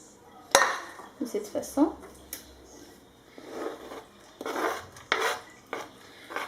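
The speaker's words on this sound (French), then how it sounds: "Là, dans la poêle, je vais mettre toute la préparation que j'ai préparée" Squid with parsley and coriander preparation goes into a frying pan, with a utensil clattering and scraping against the pan in bursts and soft stirring between, under brief talk.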